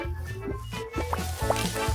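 Peeled, cut potatoes frying in oil, giving a steady sizzle with a pulsing low rhythmic undertone through a short stretch, close and fairly loud.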